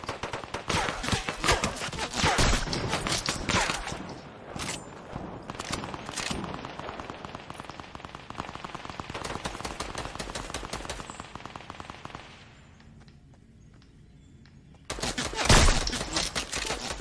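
Rapid automatic gunfire in the battle royale game Fortnite, long rattling bursts of shots that pause briefly, go quiet for a couple of seconds and then resume loudly near the end.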